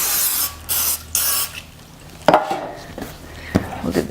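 Cooking spray hisses onto a metal bread loaf pan in three short bursts, followed by a few light knocks and clatters as the pan and dough are handled nearby.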